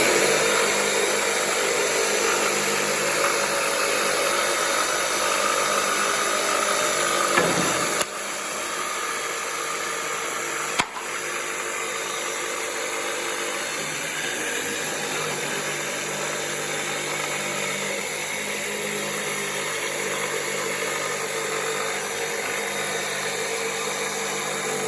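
A saw blade cuts a curve through a pine board for an Adirondack chair, making a steady, close, loud whine that runs almost the whole time and drops in level partway through.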